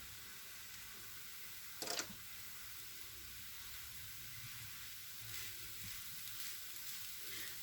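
Shredded kadayif pastry fries in oil while being stirred, giving a quiet, continuous sizzle and hiss with one brief scraping clatter early on and soft stirring swells later, with no voices.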